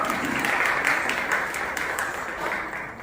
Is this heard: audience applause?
yes